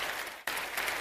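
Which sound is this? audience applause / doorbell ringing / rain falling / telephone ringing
audience applause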